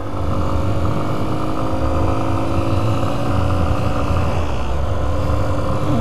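Small Honda XR125 motorcycle being ridden, its single-cylinder engine droning steadily and loud up close, pitch sliding gently as the throttle shifts, with wind rush and no talking.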